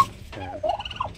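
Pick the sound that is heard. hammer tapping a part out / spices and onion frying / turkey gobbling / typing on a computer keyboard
turkey gobbling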